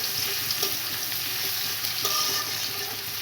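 Chopped onion frying in oil in a pan for Bengali hilsa pulao, a steady close sizzle with faint crackles and a couple of soft stirring clicks throughout.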